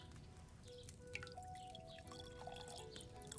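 A decoction is poured in an alchemy video game, a faint liquid trickle with scattered drips and small bubbling splashes, quiet and with no talk.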